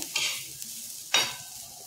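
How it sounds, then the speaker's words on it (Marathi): Roasted jawla, dried shrimp, being stir-fried in a pan: two quick scraping stirs with a brief sizzle, close and fairly soft, over about two seconds with no speech. "हे बघा, असं व्यवस्थित परतून घ्यायचं आहे"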